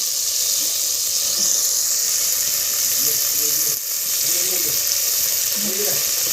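Ginger-garlic paste sizzles in hot oil with a steady, bright frying hiss that runs the whole time, while faint voices murmur underneath.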